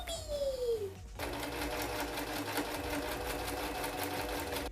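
A sewing machine stitches over the flap of a tote bag in a steady, fast, even whirr that runs on without a break, fairly quiet and close. A short tonal sound comes just before it starts.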